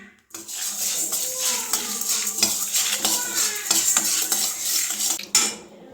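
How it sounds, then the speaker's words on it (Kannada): Black pepper and two Guntur chillies dry-roasting in a pan, giving a steady close scraping and rattling of spices against metal with repeated clinks of a utensil, continuous for several seconds with no talk. "ಇದು ಕಾಳು ಮೆಣಸು, 2 ಗುಂಡೂರು ಮೆಣಸಕ್ಕೆ ಹಾಕೊಂಡಿದ್ದೀನಿ. ಈಗ ಬಿಸಿ ಮಾಡ್ತಾಯಿದ್ದೀನಿ."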